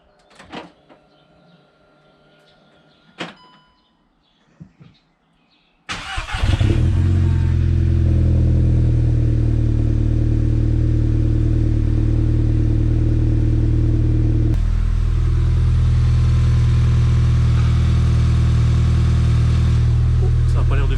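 A few faint knocks and clatters, then a Golf 6 GTI with a stainless exhaust starts and idles loudly with a deep, rough exhaust rumble, rising briefly in pitch midway.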